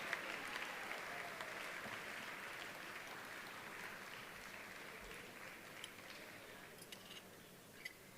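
A hall crowd at a sports hall of fame induction ceremony applauds the 1967–69 Kenmore West High School football teams, a dense, steady clapping roar held for several seconds, fairly distant and even.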